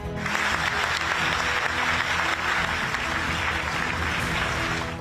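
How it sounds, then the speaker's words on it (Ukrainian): Sustained applause from NATO colleagues bidding farewell to departing Secretary General Stoltenberg at a formal session, a dense, steady wash of clapping from a roomful of people that fills the whole stretch without a break. "Вже екс генсека, який очолював альянс 10 років, колеги проводжають оплесками"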